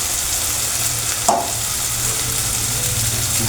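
Spices fry in hot oil in a pan, a steady close sizzle that holds throughout with one brief clink of a stirring utensil, no voices.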